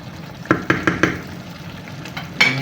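Chicken gizzards cook in a pan with a little water. A quick run of four sharp utensil knocks against the pan sounds over a soft sizzle, followed by a few quieter taps.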